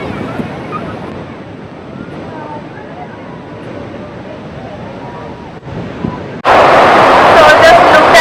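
Crashing water at Athirapally Waterfall in heavy monsoon rain, a steady broad roar under faint voices that surges suddenly louder and closer near the end.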